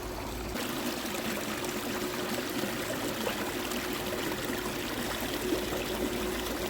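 A brook runs steadily beside a culvert, its water trickling and flowing in an even, continuous wash at moderate distance, with no voices over it.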